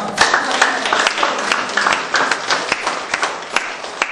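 Audience applause at a 2014 Korean civic debate forum, greeting a National Assembly member attending as a guest; steady dense clapping from a seated crowd sustained for the whole stretch, with occasional louder individual claps and faint voices.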